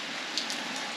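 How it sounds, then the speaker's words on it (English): Heavy rain pours steadily and close by, a dense hiss of drops on surfaces with no gaps, alone without voices. "It's raining a lot."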